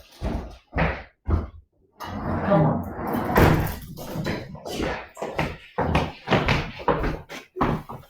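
A house door is opened to let in a dog that has been scratching at it, giving a few brief knocks and thumps while a person talks and calls to the animal throughout.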